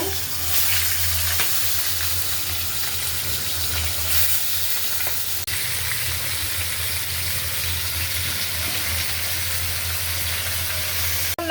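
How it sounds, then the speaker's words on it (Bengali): Marinated chicken frying lightly in a pan on a stove, a loud, dense sizzle holding steady throughout with a low hum beneath and an occasional stir or scrape, no talking. "তো আমি মুরগিগুলো ভাজিয়ে নিতেছি, রান্না করবো যেহেতু তো হালকা ভাজাটা দিব।"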